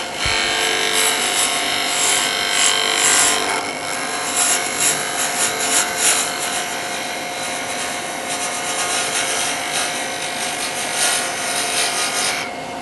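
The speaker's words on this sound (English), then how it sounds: "roll my tool around until that tip is just catching, and I'm going to walk it around." A woodturning tool cuts a wooden sphere spinning on a lathe, giving a continuous rough shaving and scraping whir with a steady motor hum underneath, fairly close and even in level.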